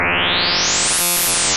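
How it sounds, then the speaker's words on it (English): In Serum 2, FM synthesis between two sine waves produces a sustained bright tone that gets brighter with rising harmonics, then briefly thins out before swelling again, all alone with no voice. "So if we take 2 sine waves, turn one down, FM from this one."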